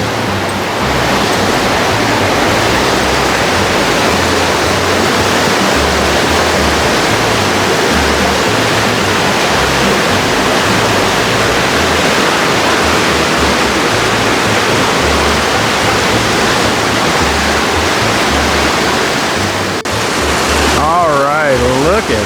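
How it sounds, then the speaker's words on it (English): Loud, continuous roar of water rushing through a marble cave, dense and steady throughout, very close, with a faint voice-like tone near the end. "I'm actually surprised at how much water is going through here right now."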